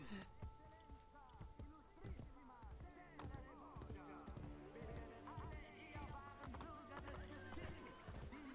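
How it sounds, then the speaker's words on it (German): Horse in the Assassin's Creed Brotherhood video game, with quick rhythmic hoof clip-clops and occasional whinnies amid game music, while someone talks over it. "Hey Pferdi, komm mal her"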